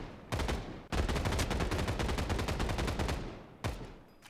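Rapid automatic gunfire from a recoiling weapon in Final Fantasy VII: The First Soldier, loud close bursts of steady rattling shots with a brief pause and a final short burst.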